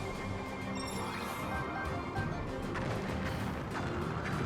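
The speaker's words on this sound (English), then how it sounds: "We got all these explosions." Repeated explosions and crashing impacts from the video game Hyrule Warriors: Age of Calamity, dense and continuous amid loud battle noise and game music, with no talk.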